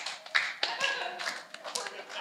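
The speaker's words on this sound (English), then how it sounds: "Everybody clap hand." Audience members at a property investment forum clap their hands in a brief, uneven burst of claps while voices talk over them.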